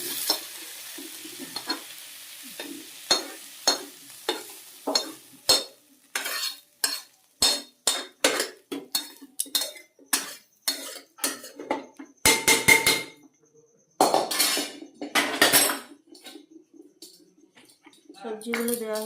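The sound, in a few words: vegetables frying and stirred in a pressure cooker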